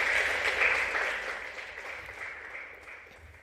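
Conference applause for a speaker at an AI summit: a full round of many hands that slowly thins and fades over a few seconds.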